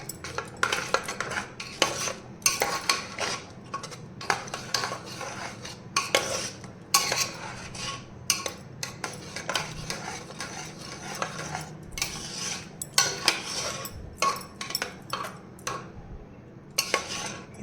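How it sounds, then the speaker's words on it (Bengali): A spoon scrapes and clatters against a pot while rajma curry with chicken masala is stirred, busy irregular metallic clinks and scrapes over a faint sizzle. "এবার আমি এটাকে ভালো করে মিশিয়ে নেব।"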